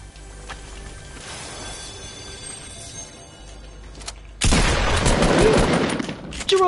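A loud shotgun-style blast and its heavy roar erupt midway through a video game scene, following quieter mechanical background game sounds.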